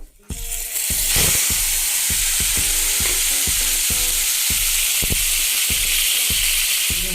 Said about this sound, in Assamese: যিখিনি কুচিয়া আমি কাটি থৈছিলোঁ সেইখিনি অলপ ভাজি ল'ম